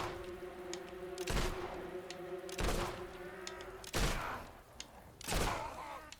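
Gunfire in the Fable 2 video game comes as several loud, separate bursts roughly a second apart, each a sharp blast with a short rumbling tail, over a steady low hum.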